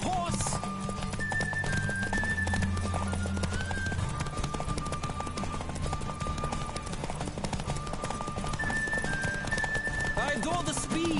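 A horse gallops in The Witcher video game, steady rapid hoofbeats drumming throughout with an occasional whinny and game music tones over the top.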